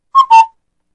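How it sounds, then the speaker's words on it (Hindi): An Asian koel calls in a forest setting with two quick, clear whistled notes, the second longer and steadier, sounding close and alone before silence. "एक सुबह पूरा जंगल कोयल की मीठी आवाज से गूंज उठा।"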